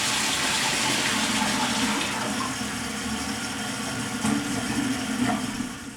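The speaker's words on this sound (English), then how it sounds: "We're going to flush it for the first time, and you can see how a pressure-assisted toilet flushes." A Sloan pressure-assisted toilet flushes with a loud, forceful rush of water that holds strong for about two seconds, then settles into a quieter gurgling refill with a few louder surges near the end.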